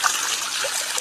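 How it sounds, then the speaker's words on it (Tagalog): Hot spring water flowing out of the ground at Pasacao, a steady close trickling and splashing that runs on without a break, with no voices. "Kung wala pong mainit na tubig na lumalabas dito, bakit mayroong ganito?"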